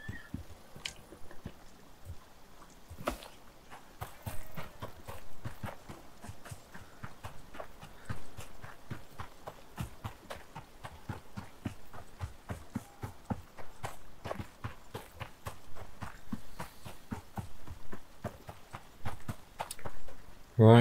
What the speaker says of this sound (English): I know they're called Tyrannus, not Terror Horse, but I just like to call them Terror Horse because that's what they are. They look like a horse.